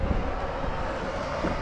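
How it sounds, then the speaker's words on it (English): A small jet aircraft passes overhead as a loud, steady roaring rush that holds without a break, with no voices over it. "Oh, the little jet."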